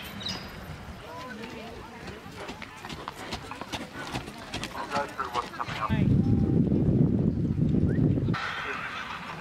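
Horses moving around a show ring at a spring agricultural show, with hoof clip-clops and an occasional whinny amid crowd noise and talking, then a louder stretch of wind or handling rumble.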